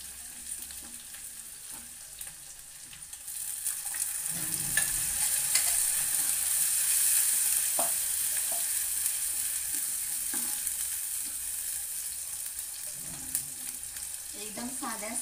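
A roasted onion and fresh coconut chutney is stirred into a sizzling pan for a Malvani-style vegetable dish, with a steady hiss of frying close by and occasional scraping of the spoon.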